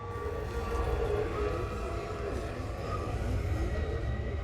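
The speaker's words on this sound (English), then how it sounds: "I can hear the air raid siren" An air raid siren wails in the video game Everybody's Gone to the Rapture, a faint wavering rise and fall drifting behind a low steady hum.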